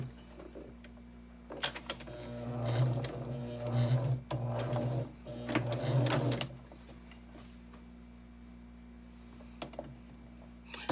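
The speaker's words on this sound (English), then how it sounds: "take it back to the machine and chain piece all these" A sewing machine chain piecing quilt blocks in bursts of rapid stitching, close and busy for several seconds, with pauses and light clicks between runs.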